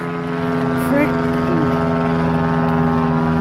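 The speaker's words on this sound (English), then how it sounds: "And there's more planes. Must be instructor day at the airport." Propeller airplanes fly near an airport, a steady droning hum with a few wavering tones that holds evenly across the whole stretch.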